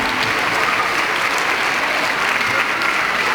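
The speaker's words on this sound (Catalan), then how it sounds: "voldria demanar-vos un gran aplaudiment per a aquests xiquets i xiquetes" Loud, dense applause from an audience at a school Christmas carol performance, cheering on young infant-class children, continuous and even throughout.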